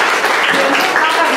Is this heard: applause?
yes